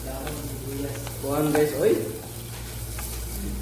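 Onion and garlic sauté in a frying pan for chicken wings adobo, a close, steady sizzle that swells briefly as stirring goes on, with someone talking over it.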